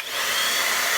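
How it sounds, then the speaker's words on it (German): Steady airy whoosh of a cheap hair dryer running, loud and continuous with a bright hiss. "Und so muss sich ein Föhn noch hören."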